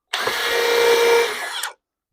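A power drill bores into a pear wood log, spinning up into one continuous high whine for about a second and a half before stopping abruptly, close and loud with no talk.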